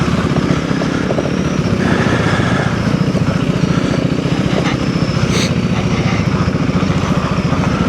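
Off-road motorcycle engine, a Honda CRF300L or KTM 390 Enduro R, droning loudly and steadily close by as it rides over dirt, with a rough, continuous engine note and no talk.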